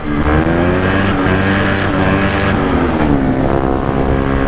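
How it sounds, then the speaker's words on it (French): A motorcycle engine holds high revs against the rev limiter inside a tunnel, a loud, sustained, buzzing drone with strong harmonics that wavers slightly as the revs bounce and echo off the walls. "Petit rupteur sous les tunnels"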